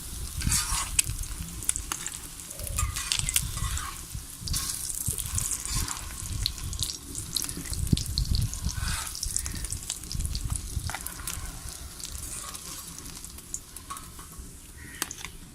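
Shami kebabs fry in a pan of hot oil for a Lahori desi-style recipe, giving a steady close crackling sizzle with scattered clinks and stirring sounds and no talk.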